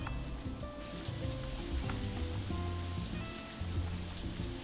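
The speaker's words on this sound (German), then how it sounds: "Und es regnet." Rain falls steadily in the farming video game Story of Seasons: A Wonderful Life, a continuous soft hiss under gentle tonal game music, with no voices.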